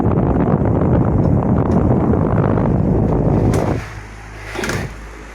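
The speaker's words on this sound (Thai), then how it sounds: "อันนี้คือเสียงเฟืองนะครับ" Electric fan with a faulty rear gear, giving a loud, dense, rushing grind up close that drops abruptly to a softer hum near the end, with a brief swell before it fades.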